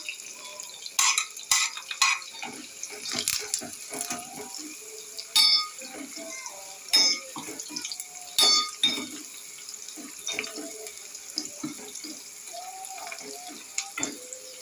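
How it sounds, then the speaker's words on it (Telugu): Onions and crushed garlic frying in a pan, with a light sizzle under repeated clinks and scrapes of stirring, close and intermittent. "ఆనియన్ కొంచెం వేగిన తర్వాత దంచి పెట్టుకున్న వెల్లుల్లి కూడా వేసేసుకుందాం"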